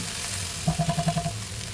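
Okra bhindi bhaji frying in a pan gives a steady sizzle, with a short run of rhythmic stirring or scraping taps in the middle.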